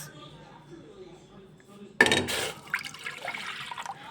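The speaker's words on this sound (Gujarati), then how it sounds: "કુકરની અંદર હું બે કપ જેટલું પાણી ઉમેરીશ" Water gushes and splashes into a metal pressure cooker for about half a second, then trickles and clinks briefly, after a stretch of quiet low background noise.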